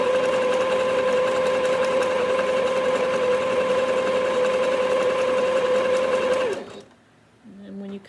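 A Singer Heritage sewing machine runs a zig zag stitch, a steady close whirring motor hum with rapid needle clatter that stops abruptly near the end, followed by brief faint handling noise.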